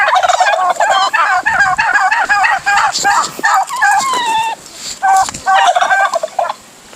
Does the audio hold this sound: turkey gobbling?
yes